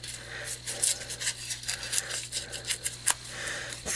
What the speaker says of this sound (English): I simply took one of the circles and I ripped it